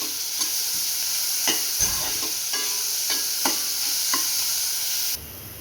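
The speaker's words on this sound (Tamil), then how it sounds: "இப்போ இந்த ஆனியனை நம்ம நல்லா ஃப்ரை பண்ணிக்கலாம்" Chopped onion fries in a pan with a loud, continuous sizzle close by, broken by repeated scraping stirs from a utensil throughout.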